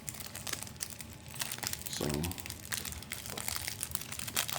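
Foil wrappers of 1999 Skybox Thunder baseball card packs crinkle and crackle in rapid, continuous bursts up close as they are torn open and handled, with a brief spoken word partway through.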